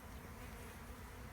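Honeybees swarming in a dense buzz around a bee beard, a steady, close, continuous hum filling the whole moment without pause.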